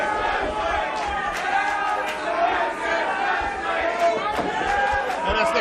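A wrestling crowd at a WrestleRex independent show in Pittsburgh chants and shouts in a loud, continuous roar, with rhythmic vocal swells and chatter filling the arena.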